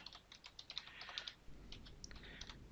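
Fingers typing on a computer keyboard during a Dragon Professional 16 scripting session, a quick, fairly faint run of key clicks with small pauses and no voices.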